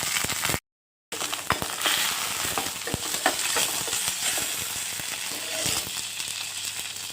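Urad dal, chana dal, curry leaves and dried red chili crackle and sizzle in hot oil, a loud, busy spitting fry with scattered pops and stirring, broken by a short silent gap near the start.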